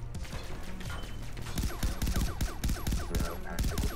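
A hard-recoiling gun firing in Far Cry 3 Blood Dragon, a rapid steady stream of loud shots that grows denser halfway through, each with a mechanical clack.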